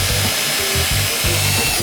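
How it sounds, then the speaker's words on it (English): A drill boring into a kitchen cabinet: rhythmic pulsing bursts of a motor whine over a constant hiss, close up, with no voices. "this 2-second practice shows we're good at drilling now"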